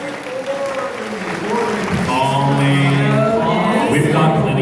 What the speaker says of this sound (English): Please give a round of applause to everybody that's helping with the con this year.